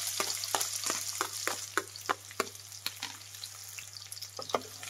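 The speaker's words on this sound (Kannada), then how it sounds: "ಫ್ರೈ ಮಾಡಿ ಈರುಳ್ಳಿನ." Sliced onions fry in oil with cumin, mace and cardamom for a chicken hara masala, crackling with steady sizzle and sharp, irregular pops and spits close up, with no voices.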